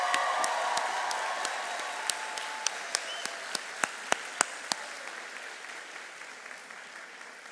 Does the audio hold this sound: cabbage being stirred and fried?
no